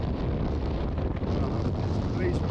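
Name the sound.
very strong wind off cliffs while sailing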